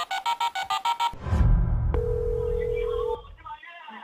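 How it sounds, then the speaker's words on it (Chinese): A telephone rings with a rapid repeated electronic trill during a live CCTV Spring Festival Gala countdown broadcast, then stops as the line connects with a click and a steady tone, with voices and studio sound following. "要电话铃声响了就是你的"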